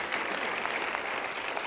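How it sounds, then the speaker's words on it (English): Audience applause at a Saturday general-session gathering fills the hall as a dense, steady wash of many hands clapping together, fairly distant and constant throughout, with no voices above it. "Let's give her another round of applause, ladies and gentlemen"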